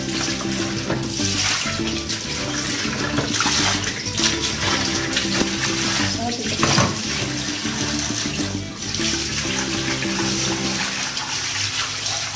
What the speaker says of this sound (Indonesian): Lalu Pak, ini kita proses cuci ya. Nah, seperti ini dicuci aja dulu.